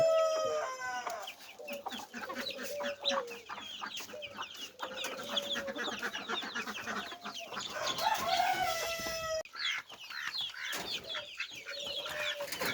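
Several native country chickens cluck and chatter nearby in an uneven stream as they feed, with a rooster crowing partway through and other birds calling faintly in the background.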